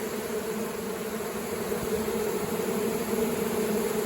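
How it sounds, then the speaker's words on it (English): Bees fanning at the entrance of a hive that recently swarmed, a steady close buzzing drone with no break, holding an even level throughout and no voices. "They actually fan the entrance for other bees"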